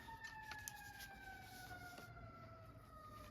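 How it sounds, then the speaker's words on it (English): Fire engine sirens wail far off, two steady high tones sliding slowly downward, faint under low background noise, no talk. "Can you guys hear the fire engines?"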